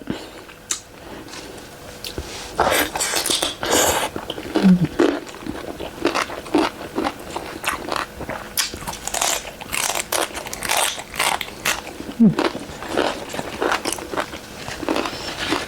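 Chicken feet being bitten and chewed, a run of crunchy bites and crackling chews repeating over several seconds, close to the mouth with faint background sound.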